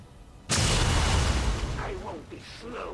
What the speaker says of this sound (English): we should get the explosion from the claymore